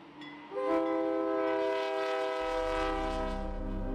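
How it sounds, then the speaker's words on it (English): A train rolls through a small town, its horn sounding a long, loud, sustained multi-tone blast that begins after a brief quiet start and holds steady, with low rumble of the cars building underneath. "Several times a day, trains pass through the town of Cornelia."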